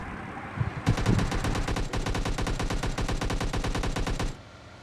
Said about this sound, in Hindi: फायरिंग बहुत हो रही है।